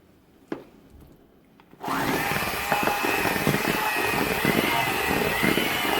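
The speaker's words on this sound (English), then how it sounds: "I'm gonna get my blender and I'm gonna blend it for a little bit." A blender starts up after a brief quiet moment with a small knock, then runs as a loud steady whirring motor while whipping masa for Mexican tamales until creamy, continuing to the end.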